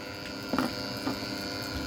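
A portable shower runs with a steady water flow and a humming burner, a low continuous drone with a couple of faint knocks.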